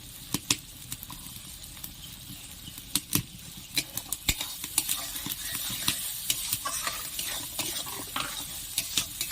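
Shrimp and pointed gourd masala with tomato paste and salt sizzles steadily in a hot pan, with frequent sharp spatula scrapes and knocks as it is stirred and fried; close and moderately loud, no talking.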